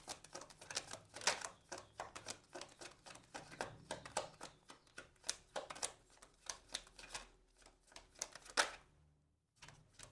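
Tarot cards shuffled by hand for a one-card draw, a quiet close run of irregular riffling taps and flicks that falls silent just before the end.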